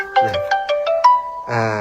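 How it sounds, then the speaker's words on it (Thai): A LINE app incoming call ringtone plays on a phone, a loud electronic melody of short, evenly spaced plucked notes rising in pitch, followed by a fuller sustained chord. "อันนี้โทรไลน์"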